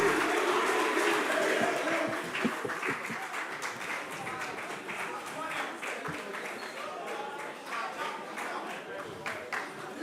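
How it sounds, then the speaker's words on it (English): An audience at a national investment quiz quarter-final claps for the contestants, with dense applause at the start giving way to scattered claps while talk continues over it. "Let's clap for all of them."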